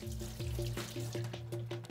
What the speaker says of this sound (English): you're just going to run the water over the top of the brush